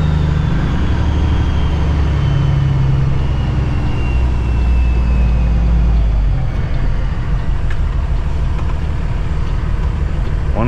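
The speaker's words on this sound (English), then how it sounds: "Car coming." A car passing on a road heard from inside a delivery truck, a loud low rumble of engine and road noise that swells and then shifts as the vehicle goes by, with no talk.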